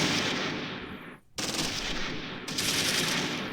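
A machine gun fires sustained bursts in Close Combat 3, set on the Russian Front: dense, loud rattling gunfire with a brief gap before it resumes, and no voices.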